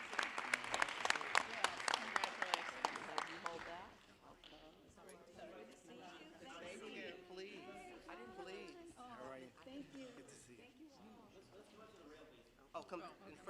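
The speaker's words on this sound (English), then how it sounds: "Please give St. John's a round of applause for their 60th anniversary." An audience at a Los Angeles County Board of Supervisors meeting gives a brisk round of applause, loud and close for about four seconds, then scattered talk continues.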